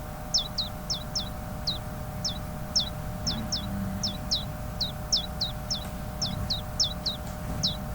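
Video game birds, hungry young ones, chirp in a steady string of short, sharp, high tweets, each small group of calls repeating quickly and clearly over a low background hum.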